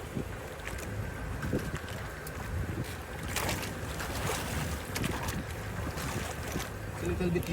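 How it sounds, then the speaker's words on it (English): Gusty wind buffets the microphone at a volcano viewpoint overlooking old lava flows in the Philippines, a steady rumbling roar with occasional stronger gusts throughout. "it's a little bit windy."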